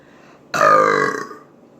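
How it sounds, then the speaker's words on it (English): A single loud, close burp from someone eating a big four-meat burger, a short voiced belch that swells and trails off within about a second. "Let me see how many burps I can get out of this."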